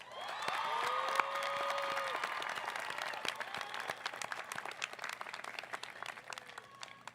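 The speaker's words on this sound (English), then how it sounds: "let's celebrate your entire family and friends with a round of applause." A crowd at a graduation commencement ceremony applauds in a large hall, a broad sustained clapping that swells early then slowly thins, with faint cheers and whistles mixed in.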